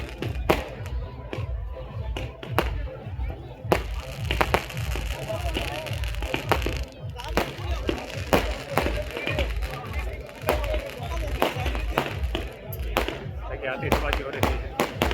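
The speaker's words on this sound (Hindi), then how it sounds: "आतिशबाजी हो रही है।" Fireworks crackle and pop at a village election gathering in Dumkar, a rapid string of sharp bangs heard from nearby over a crowd and ongoing talk.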